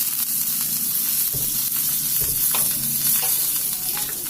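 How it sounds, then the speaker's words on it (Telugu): Spices and curry leaves crackle and sizzle in hot oil in a wok for a Telugu-style tempering, a steady close frying hiss with scattered pops and a few stirring knocks throughout. "బాణలో కొద్దిగా ఆయిల్ తీసుకొని కొన్ని పోపు దినుసులు వేసి కొద్దిగా కరివేపాకు"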